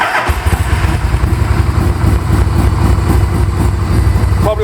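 A 1340 Harley-Davidson Shovelhead with a five-speed gearbox and fishtail exhausts starts on choke and settles into a loud, lumpy, uneven idle close by, with a brief rev at the end.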